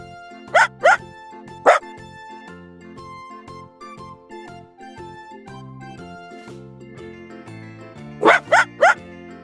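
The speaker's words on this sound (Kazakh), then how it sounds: "Ит." A dog barks in short sharp bursts: two quick barks, a single bark, then a rapid run of three near the end, loud and close over soft background music.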